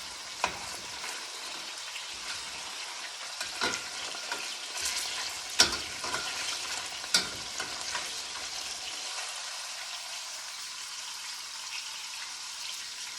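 Wahoo and yellowtail tuna searing in a hot pan, steady close sizzle and hiss with a few sharp pops and spatters, the frying dying down toward the end with no talk.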